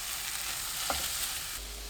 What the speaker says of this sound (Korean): 팬이 달궈지면서 지글지글 소리 나면 그때부터 50초 더 볶습니다.